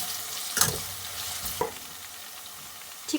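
Onions sizzle in a pan as garlic paste and ginger paste are added and stirred for Sindhi biryani, soft steady frying with two brief scraping stirs, fairly quiet and close.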